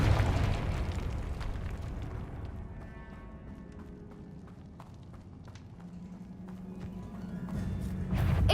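Confringo fire spell cast in the Hogwarts Legacy video game, heard as a loud explosive burst at the start, then a lower rumbling blast-like roar with scattered pops, swelling again at the end.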